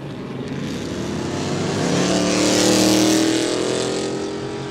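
A Chevelle's engine revs loud and close at a quick street event day in Kooralbyn Valley, a steady rumbling roar that swells in the middle and then eases off, with no talk over it.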